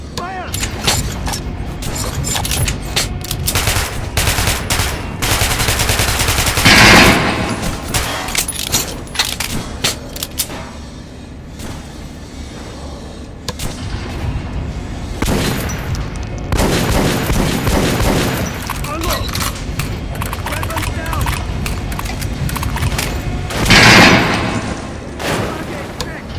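Gunfire in the video game Metro: Last Light, with a sustained stretch of shots and louder bursts around the middle and near the end, mixed with game ambience and dialogue.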